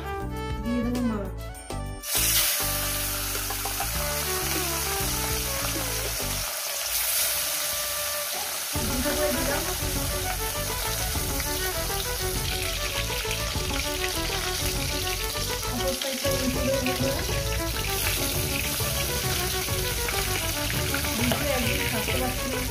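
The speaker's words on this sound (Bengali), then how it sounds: "তেলটা আমার গরম হয়ে গেছে, দিয়ে দেবো মাছ" Catla fish pieces sizzle and spit as they fry in hot oil, a continuous crackling hiss that lasts throughout the stretch.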